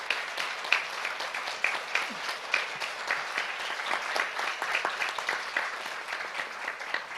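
Moderately distant audience applause for UN Secretary-General Ban Ki-moon at a Jeju peace forum session, a steady wash of many hands clapping.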